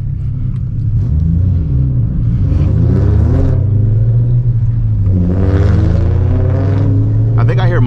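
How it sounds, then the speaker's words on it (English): A loud, low engine rumble with rising and falling revs, steady throughout and close by. "I think I hear my car in the AirPods."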